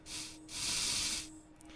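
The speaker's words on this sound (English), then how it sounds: "You can take your cleaning spray, spray it down a little." Cleaning spray misted onto a gun held in a vise in the Into the Radius VR game: two soft hissing bursts, a short one then a longer sustained spray, close and fairly quiet with no talk.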